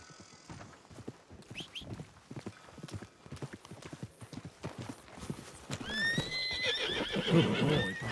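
Steady clip-clop of horse hooves in a video game builds throughout, joined near the end by loud, high neighing whinnies over the hoofbeats.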